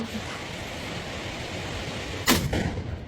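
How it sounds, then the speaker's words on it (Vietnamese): A gunshot rings out while a hunter shoots at wild ducks in a quiet valley. A single sharp crack rises over a steady rushing outdoor background, followed by a short fading echo. "Một tiếng súng vang lên, xé toạc sự yên tĩnh của thung lũng."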